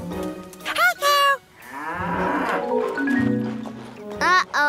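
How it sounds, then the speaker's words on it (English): A cartoon cow gives several loud, close moos in short bursts, separated by cartoon music and effects. "Morphle, let's try to milk a cow as well."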